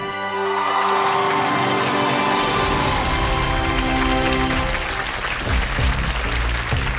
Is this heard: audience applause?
yes